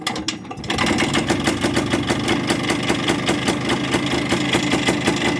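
Muravey motor scooter engine catching and then running with a steady, fast, even knocking beat, loud and close, with no talking.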